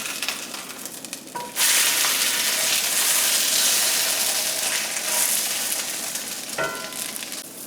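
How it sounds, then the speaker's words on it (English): Pierogi fry and brown in a hot skillet, a loud, steady sizzle that bursts in suddenly and crackles on continuously, with a brief stir or shift of the food near the end. "Now I'm heating up a skillet, and now what we want to do is place the pierogi in the skillet,"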